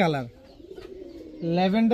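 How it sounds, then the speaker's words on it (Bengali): A lavender bold-head Birmingham Roller pigeon coos softly and low at close range, with a voice speaking just before and after the cooing. "বোল্ড হেড বার্মিংহাম রোলার একটা কবুতর"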